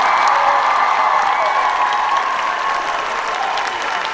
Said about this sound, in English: let's give one more big round of applause for Mr.